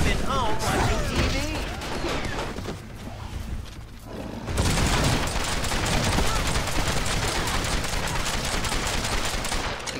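Rapid bursts of gunfire in the superhero action game Marvel: Ultimate Alliance 2, loud and nearly continuous, mixed with game voices and combat noise.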